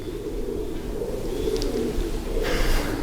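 Pigeons cooing from above, a steady low murmur of several birds close by with a brief higher chirp near the end.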